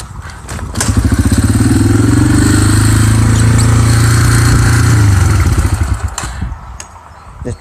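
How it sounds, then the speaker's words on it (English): A dirt bike engine starts and settles into a loud, steady idle with a rapid, even thumping pulse, then cuts off near the end, leaving brief clunks and handling noise. "Just both simple ways of turning the dirt bike on."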